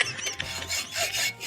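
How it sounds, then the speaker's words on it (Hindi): Hand saw rasping through a brick, a run of gritty back-and-forth strokes with brief pauses between them, close and fairly loud with no talking. "हाँ फिर तो ये आरी से कटेगी।"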